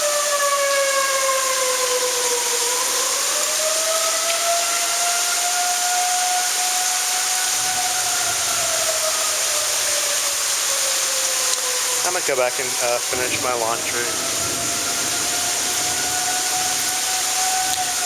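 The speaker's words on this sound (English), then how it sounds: "This is like the 5th time today the sirens have gone off." Tornado warning sirens wail across Dallas Lake Highlands in a long, continuous rising and falling tone over steady outdoor hiss. A person speaks briefly near the end while the sirens keep sounding.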